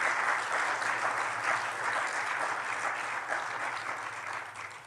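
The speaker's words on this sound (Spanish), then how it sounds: "¿Podemos darle un aplauso?" A church congregation applauds together in steady, sustained clapping that fills the room, fading slightly toward the end, with no talking over it.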